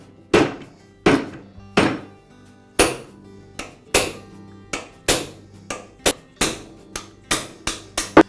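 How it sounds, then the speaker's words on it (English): Hammer taps drive a wobble shaft out of the wobble plate bearings in a Milwaukee reciprocating saw: about fourteen sharp, close metallic strikes, irregularly spaced and each decaying quickly, with no voices. "now I can tap the wobble shaft out of the wobble plate bearings"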